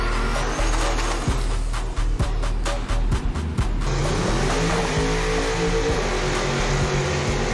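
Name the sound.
Chevrolet Caprice race car engine accelerating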